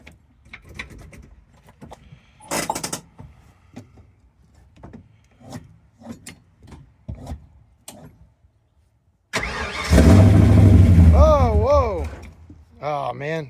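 An old Mustang, parked since 1999, cranks repeatedly in a rhythmic series of starter turns, then briefly catches with a loud, rough engine roar before dying. Voices talk over parts of it.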